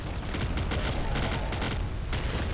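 Rapid, dense slug shotgun blasts in the video game Nuclear Throne, loud booming shots fired in quick succession with no pause.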